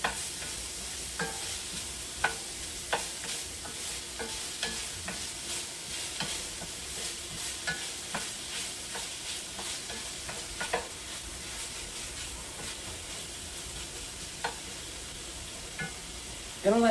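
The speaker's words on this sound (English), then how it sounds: "You don't want to brown these onions, you just want them to sweat a little bit, so I did turn my heat down just a bit." Onions sweat in a pan over lowered heat with a steady, soft sizzle that runs throughout, broken by regular scraping stirs of a utensil and a louder clatter at the very end.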